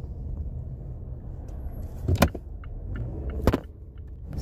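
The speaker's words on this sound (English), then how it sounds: "So as you can see, I'm driving today." Car interior while driving, a low steady road rumble with a couple of brief clicks or knocks from inside the cabin, no talk.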